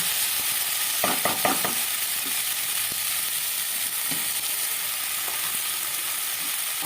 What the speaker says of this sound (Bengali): নুন দিয়ে ভালো করে এটাকে নাড়িয়ে চাড়িয়ে নেব দেখুন এইভাবে নাড়িয়ে চাড়িয়ে নেব